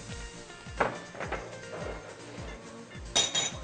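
Flour being whisked into yogurt for Turkish yayla soup, a rapid series of light clinks and taps as the whisk strikes the bowl in a quick rhythm, close by, with brief louder bursts and no talk.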